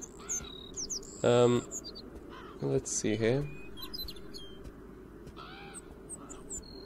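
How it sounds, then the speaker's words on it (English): In the snowy world of the Beyond Eyes video game, a small bird gives scattered high chirps and short calls while a person talks briefly over the soft background ambience. "There's a little bird."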